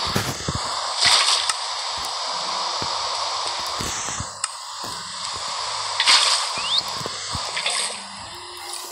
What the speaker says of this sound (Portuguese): Vou fazer logo aqui uma fonte infinita de água.